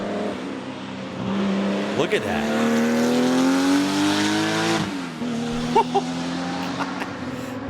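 A Porsche 935 race car revs hard, its engine note climbing and falling in loud sweeping pitches before settling into a steady roar with a few sharp pops, while someone talks over it.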